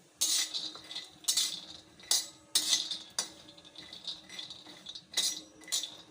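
Almonds roasting in ghee in a pan, stirred with a metal spoon: repeated clinks and scrapes against the pan at an uneven rhythm, close and fairly quiet, with no talk.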